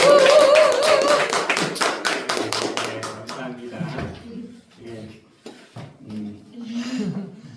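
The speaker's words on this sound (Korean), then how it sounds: "다시 하나님께 영광의 박수" A church congregation at a Sunday worship service claps in a quick, steady rhythm for a few seconds over a held musical tone, then the clapping stops and a voice speaks.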